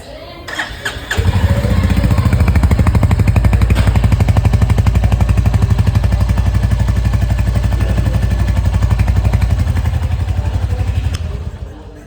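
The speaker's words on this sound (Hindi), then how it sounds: "कुछ इस हिसाब से इसका इंजन दहाड़ता है, जो बहुत ही एकदम हैवी साउंड करता है" A 2025 Royal Enfield Hunter 350 motorcycle engine cranks and fires, then runs in neutral with a loud, heavy, steady throb close by before cutting off.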